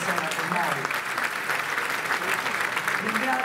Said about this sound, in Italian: chiedo un applauso a Rino Colace per essere qui